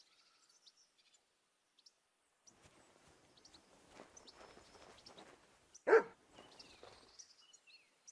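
Dog barking in Kingdom Come: Deliverance 2, faint and distant at first, then one sharp louder bark near the six-second mark, with soft bird chirps and quiet background sounds around it.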